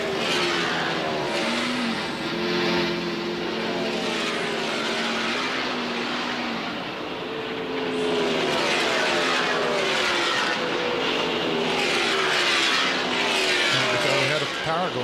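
A NASCAR stock car engine idling and revving during the 2000 NAPA 500 at Atlanta, its rough drone rising and falling under a race announcer's commentary with crowd and track noise behind.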